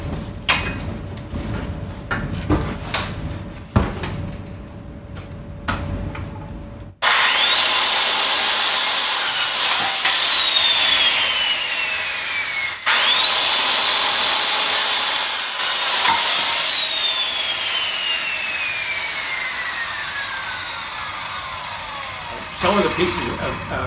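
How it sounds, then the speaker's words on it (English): After a few knocks and handling sounds, a power saw whines loudly through 2x2 wood framing for a barn owl nesting box in two long cuts, its pitch dropping as the blade slows after each one. "It's time to cut out the 2x2 framing."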